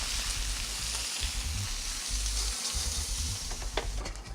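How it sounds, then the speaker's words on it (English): Steak sizzles in a hot pan, a steady crackling hiss with some low clunks of handling underneath. "You hear it sizzle, it's fantastic."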